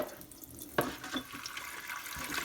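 Tap water runs while plastic fan parts are rinsed under it, a continuous splashing stream with a few sharper knocks and splatters close by.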